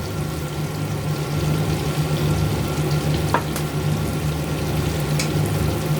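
Shrimp stir-frying with soy sauce and sesame oil in a pan, a loud, close, continuous sizzle with scraping stirs and a low steady hum underneath.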